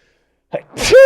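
A single sharp human sneeze bursts out loud and close after a short lead-in breath, ending in a brief voiced tail.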